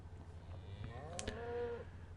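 A Minecraft cow lets out a single drawn-out low moo, faint and somewhat distant, over a quiet steady background hum.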